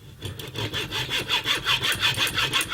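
A hand saw cuts through a small piece of wood, about 2.1 cm wide, for a fishing clamp part, in quick, even back-and-forth strokes, close and fairly loud, with no talking.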